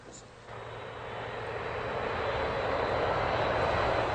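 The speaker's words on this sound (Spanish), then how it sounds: "una formación aérea argentina compuesta por 2 aviones de la Armada y 4 de la Fuerza Aérea atacan al portaaviones Invencible" Argentine military jets, a formation of Navy and Air Force attack aircraft, roar overhead in a broad, steadily building engine noise that grows louder over a few seconds.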